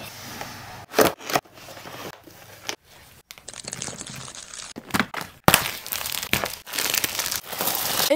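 Cardboard packaging and plastic wrap of a SUGAR65 budget keyboard from a Chinese maker crinkle, crack and thump as the box is opened by hand, with irregular bursts and a louder tearing stretch near the end, no talk.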